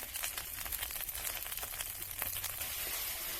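Spice paste frying in a pan with ground coriander and chili powder, giving a steady, close, even sizzle that holds at the same level throughout without pause.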